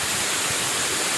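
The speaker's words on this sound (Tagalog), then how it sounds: "Waterfalls." Igpupula Falls, a small waterfall in Barangay Bulabod, roars with a steady dense rush of falling water, loud and close, with no voices over it.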